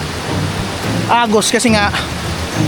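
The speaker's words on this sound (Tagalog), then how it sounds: "umuulan na siya. Ang lakas na ng ulan." Heavy rain pours over a river in a dense, steady wash of noise, with someone speaking briefly over it.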